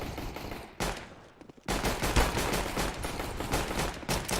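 Rapid pistol fire from a Counter-Strike: GO round on the Cache map, a dense burst of loud gunshots that breaks off briefly, then returns as steady repeated firing through the rest of the clip.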